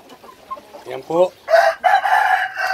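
Backyard chickens cluck and a rooster crows close by, part of a home flock of over forty birds kept for breeding, including a prize-winning fighting cock; a voice speaks briefly at the start before the loud crowing and clucking.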